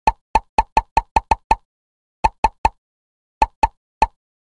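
Bubbles pop one by one as they are tapped in a toddler video game, sharp cartoon plops in a quick run of eight, then a cluster of three and another three, each crisp and isolated against silence.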